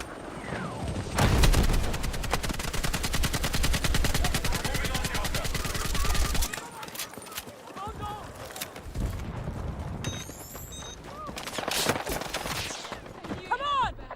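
In a video game battle, sniper shots and machine-gun fire crackle in rapid bursts, first as a dense rattling stretch and then as scattered sharp reports, with a voice talking over parts of the clip.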